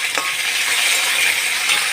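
Potatoes frying in hot mustard oil give a steady, close, dense sizzle with a brief stirring clatter near the start, alone throughout.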